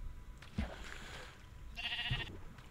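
A sheep in the Minecraft video game bleats once, a short wavering cry heard faintly over quiet game ambience.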